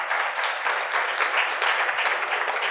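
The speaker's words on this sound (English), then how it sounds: "I really wasn't looking for the applause line, but thank you" An audience at a Hamilton neighbourhood forum with the mayor applauds, a dense and even wash of many hands clapping, fairly loud and sustained throughout with no talk over it.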